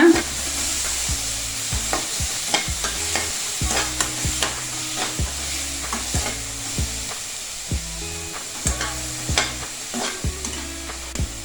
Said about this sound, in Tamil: இதுவும் கொஞ்சம் லைட்டாக ஃப்ரை ஆகட்டுங்க